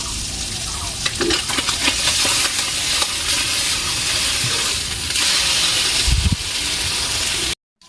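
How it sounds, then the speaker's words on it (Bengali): Small fish sizzle loudly in hot oil in a pan, with steady hissing frying and a few scraping, clattering knocks as the fish are flipped. No one speaks, and the sound cuts off abruptly at the end. "মাছটা এবার আমি উল্টিয়ে দেবো।"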